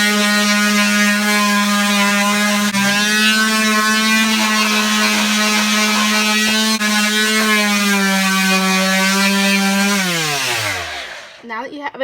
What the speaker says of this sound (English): I'm going to go and hit it with my sander again